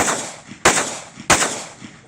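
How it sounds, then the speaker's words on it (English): Pistol shots fired on a USPSA shooting stage, two loud, sharp reports about half a second apart, each with a ringing outdoor tail, no talk. "Loud gun."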